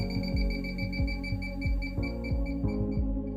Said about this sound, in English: This means that if the beeping quickens, you're closer to the leak.